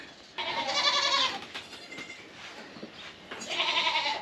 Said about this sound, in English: Hello, Mama's goats. I hear some little voices.